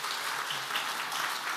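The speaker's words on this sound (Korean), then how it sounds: "은혜로운 말씀을 전해주신 목사님께 감사의 박수를 드리겠습니다" A small congregation at a men's mission prayer meeting applauds the pastor, steady, moderately loud clapping that holds evenly through the brief moment.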